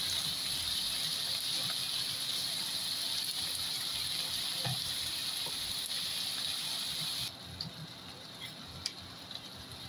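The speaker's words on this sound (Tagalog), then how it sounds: "Naglagay pa rin ako ng konting tubig para maluto pa rin ang sayote." Water poured into a pan of sautéed chayote hisses and sizzles in a steady, loud wash that drops off sharply near the end, leaving quieter bubbling with a few small clinks.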